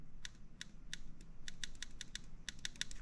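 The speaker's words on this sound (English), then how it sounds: "that little clicking sound is actually the trigger making contact with the little micro switch on the trigger board" Airsoft pistol trigger clicking against the micro switch on its trigger board, a string of sharp, small, close clicks in an irregular rhythm, some in quick pairs, over quiet room hiss with no talking.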